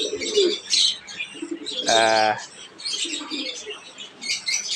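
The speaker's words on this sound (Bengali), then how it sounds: "কবুতরের বাচ্চা দেখেন।" Pigeon chicks at a village market give soft, close chirps and coos in short bursts, with one longer tonal call in the middle and quiet background murmur.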